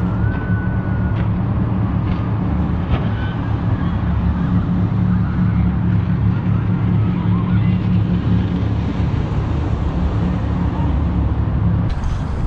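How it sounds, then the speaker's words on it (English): Loud, steady low engine roar of passing jet boats, each with dual 302 V8 engines and jet pumps, fills the whole stretch, a continuous rumbling drone with water and wind noise layered on top. "they're running dual 302 V8s in those boats with jet pumps"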